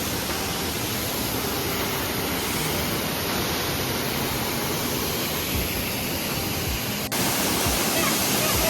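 The Bomburu Ella waterfall in Nuwara Eliya roars nearby, a loud, steady, dense rush of falling water with no break across the whole stretch.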